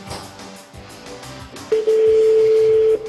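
A telephone line gives a few short, soft tones, then a single loud, steady tone that holds for about a second before stopping.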